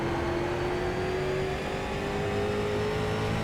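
A race car engine in an oval racing video game holds a high, steady drone with a slowly drifting pitch. The engine is being pushed hard and may be damaged, and the loud, unbroken roar plays alone.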